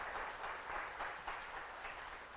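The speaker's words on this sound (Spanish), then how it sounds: "aún yo le daría palmas al Señor" A church congregation applauds during a sermon, producing a faint, continuous wash of clapping that stays even throughout.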